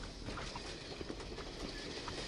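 Train in the video game Ubersoldier 2, heard as a steady rolling rumble with faint rhythmic clacks, continuous and fairly quiet throughout with no voices.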